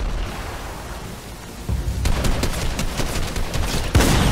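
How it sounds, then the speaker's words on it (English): Shotgun and other gunfire in a Fortnite match, quiet at first, then rapid crackling bursts of shots, with one loud close blast near the end. "Of course, I get absolutely bloody hit by a shotgun."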